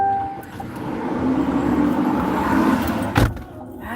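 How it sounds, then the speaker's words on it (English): A loud, powerful truck rumbles past nearby, its engine noise swelling and holding before a sharp thump and fading, heard from inside a vehicle on a Fort Worth, Texas delivery drive. "That is a loud truck. Lots of power."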